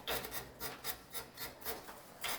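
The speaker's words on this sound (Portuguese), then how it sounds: "Lixando." Rhythmic back-and-forth sanding strokes on a refrigerator compressor pipe during a compressor swap on an R600 system, about nine even rasping passes, close and loud, with no talking.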